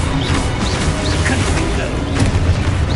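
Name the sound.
explosive spell blasts in the video game Hogwarts Legacy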